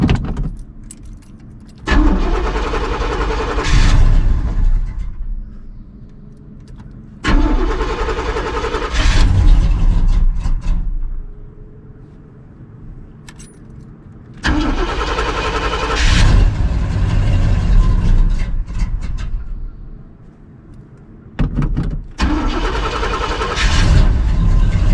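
A 1973 GMC C2500 truck engine with a carburetor repeatedly cranks, catches and runs in loud bursts separated by quieter pauses, with no talking.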